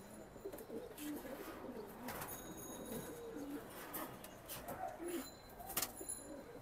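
Pigeons of several breeds, including Giribaz, coo softly in low repeated calls amid a steady ambient hiss, with a few faint chirps and a sharp clatter near the end.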